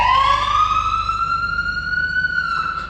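An electronic siren wails, its tone rising slowly and steadily in one long sweep, loud and near, over a faint low rumble, from the emergency siren on a 2021 Ford F-150 volunteer firefighter truck.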